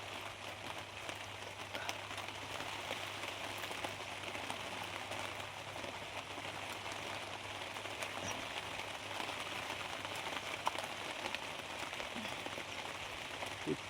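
Rain falls steadily outside while water drips through a torn tarpaulin roof at a rural farm shelter, a continuous close hiss of downpour with faint scattered drips and no clear talk.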